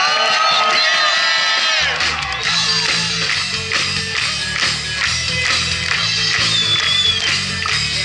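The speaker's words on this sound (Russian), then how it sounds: "Под ваши бурные аплодисменты, ребята!" An audience at an outdoor street concert cheers, whoops and claps as a band starts up, crowd noise and shouts riding over a pulsing bass groove.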